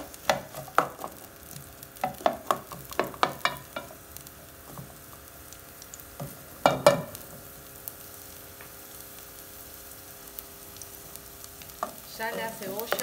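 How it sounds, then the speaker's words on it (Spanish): Onion softens in a pan for stuffed eggplant, with a low sizzle under bursts of clattering stirs and utensil knocks, quieter stretches in between. "Vamos a dejar rehogar un poco la cebolla."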